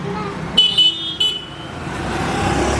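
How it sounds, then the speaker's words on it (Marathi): A vehicle pulls up on a village road and gives a few short horn toots close by, followed by a low, steady road and engine rumble. "चल गाडी आली तो."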